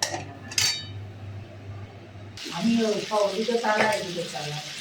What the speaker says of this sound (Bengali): মশলাটা দিয়ে দিলাম এর মধ্যে, আলুর মধ্যে দিয়ে একটু ভালো করে কষিয়ে নেব।